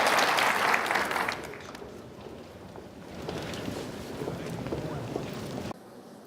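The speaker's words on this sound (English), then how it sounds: "Nice round of applause, please, if we can." An audience applauds after a roundtable discussion on emerging markets, a burst of clapping at first that thins into softer, scattered clapping and room noise before cutting off.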